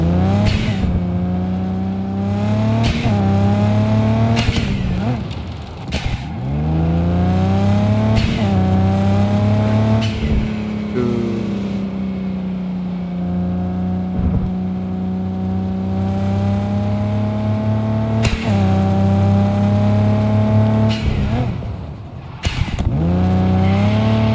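A car driven in Cyberpunk 2077 across open desert roads, its engine droning loudly and steadily with repeated rises and drops in pitch as gears shift and the throttle changes, close and continuous throughout.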